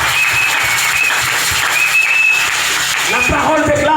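A church congregation at a Sunday service of the Plein Évangile Tabernacle claps loudly and continuously, with whistles and cheering mixed in, and a voice begins speaking near the end.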